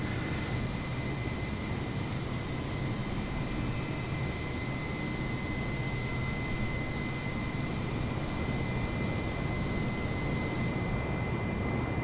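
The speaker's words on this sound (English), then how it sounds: "we can climb faster because this is a powerful jet airliner" A jet airliner, an Airbus, flies low near the Kerch Bridge in a flight simulator game, giving a steady loud roaring whoosh of engine noise throughout with no talk.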